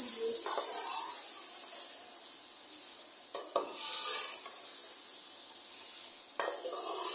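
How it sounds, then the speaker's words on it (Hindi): Nihari masala stirred into chicken frying in a pan, giving a continuous hissing sizzle broken by a few scraping sweeps and utensil taps against the pot, close up, with no voices. "अब हम इसमें 3 टेबलस्पून भरकर निहारी मसाला ऐड करेंगे। मसाले को अच्छी तरह मिक्स कर लेंगे।"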